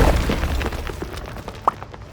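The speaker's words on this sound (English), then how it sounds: "Stalagmites! Destroy them!" Stalagmites shattering in The Witcher 3, a series of rough crumbling bursts and pops with one sharp crack near the end, loud and close amid game ambience.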